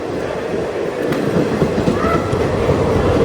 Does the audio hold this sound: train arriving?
yes